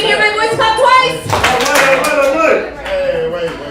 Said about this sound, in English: If you can hear my voice, clap twice.